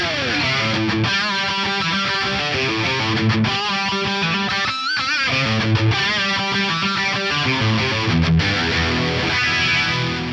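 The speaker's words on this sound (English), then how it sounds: "while we're talking about flanges, I think the ADA model is pretty great as well" Distorted electric guitar played through an ADA flanger model on a Fractal FM9 effects unit, sweeping jet-like swirl over chords and riffs, loud and continuous with a brief pause midway.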